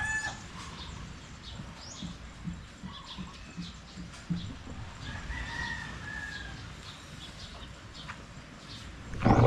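A rooster crows and hens cluck around a Filipino backyard flock being given medicine, the calls moderately distant over steady outdoor background noise, with no speech.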